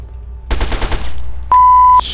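Rapid burst of gunfire in Fallout 3 during combat against Enclave soldiers at Raven Rock, a quick rattling volley of about six shots followed by a steady electronic beep tone.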